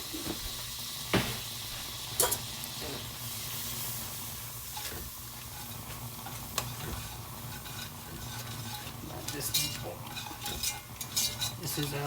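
Flour stirred in a pot to make a roux for stovetop mac and cheese, heard as steady scraping and light utensil knocks against the pot, with occasional sharper clinks, close and fairly quiet.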